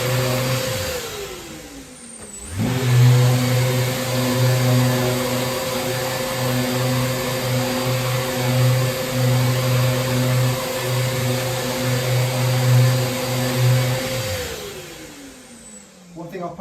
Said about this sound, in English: I've got this on the setting about halfway, because basically it doesn't need much power on this ceiling